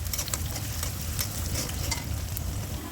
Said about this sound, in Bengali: তেলটা গরম হয়ে গেছে, দিয়ে দিলাম বেশ কিছু পেঁয়াজ